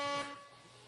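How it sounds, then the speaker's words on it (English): A single short blaring horn blast with a bright, buzzy tone, sounding briefly and then fading out. "Air horns."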